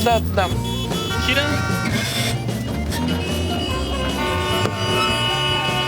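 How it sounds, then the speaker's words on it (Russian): Car horns honk repeatedly in a traffic jam, tooting over a busy mix of music and voices, with people talking throughout. "Ну чё вы бибикаете?"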